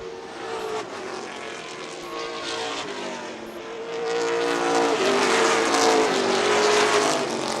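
Pro stock race cars roar around the track in a pack, a loud, layered engine howl that swells as they pass closer.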